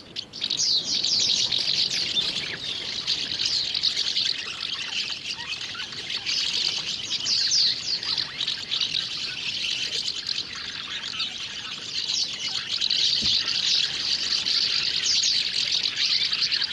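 Chatty, nest-building birds calling in a European village, a dense stream of rapid chirps and twittering close by, continuing without pause over a soft background wash.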